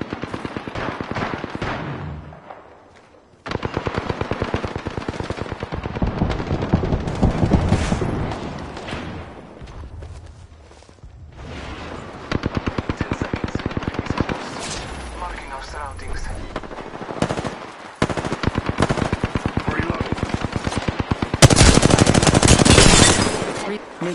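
Heavy gunfire in the battle royale shooter Apex Legends: sustained rapid bursts and scattered booms across a long firefight, with voice callouts heard at times over the shooting.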